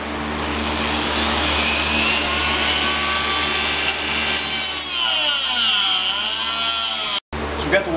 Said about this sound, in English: right now I'm in the process of taking a rotary tool and cutting a slot into it